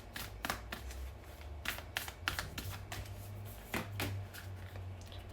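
Oracle cards are shuffled in quick riffling bursts, a series of crisp papery flutters and taps at close range, fairly quiet with short pauses between runs.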